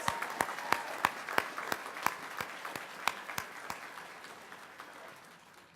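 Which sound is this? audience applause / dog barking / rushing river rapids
audience applause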